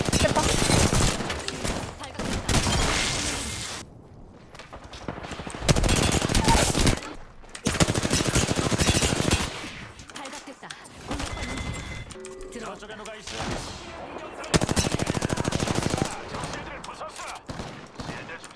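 Loud, sustained bursts of rapid automatic gunfire in Apex Legends come in repeated volleys with brief pauses between them.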